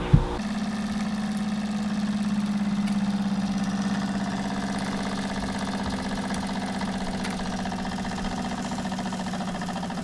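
A Jensen 76 toy steam engine, leaking fuel, fires up with a short click and then runs with a steady, close mechanical hum and faint rattling vibration that continues evenly.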